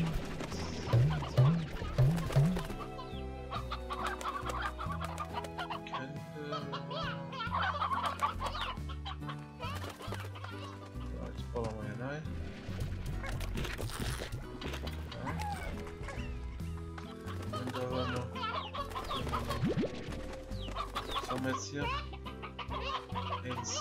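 Chickens clucking in the game Slime Rancher, repeated close clucks and squawks in a busy, layered mix, with a person talking intermittently over them.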